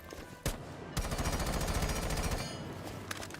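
An AK-12 rifle in Rainbow Six Siege fires a sustained rapid automatic burst lasting about a second and a half, loud and close, preceded by a single sharp shot.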